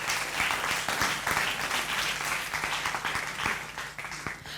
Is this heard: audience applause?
yes